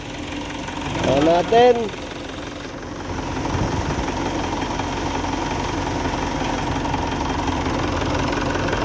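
Mitsubishi Montero Gen 2 engine, overheating and due for a top overhaul, settling into a steady idle after starting, a continuous mid-pitched rumble with a brief voice speaking over it early on.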